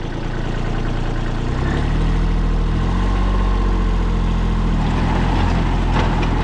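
A mini tractor's engine running close by with two-wheel drive engaged, a loud, steady diesel-like rumble that deepens slightly as it pulls away, with no break for the whole stretch.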